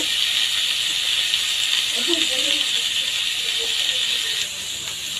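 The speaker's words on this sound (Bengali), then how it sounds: "এখন আমি কাঁঠালের বিচিগুলো এতে দিয়ে দেব।" Jackfruit seeds and onions frying in a pan produce a steady, bright hiss that dips slightly near the end, with faint voice-like sounds in the background.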